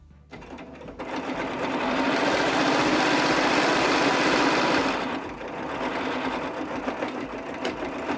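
A sewing machine stitches along the seam of a pillow at a quilting class, running in one steady, loud mechanical whir that eases slightly near the middle and keeps going to the end.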